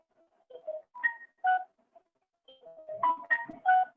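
A mobile phone ringtone goes off during a Sanskrit grammar lesson: short melodic electronic tones in two bursts, a brief pause, then a busier run of notes, fairly clear with no talk over it.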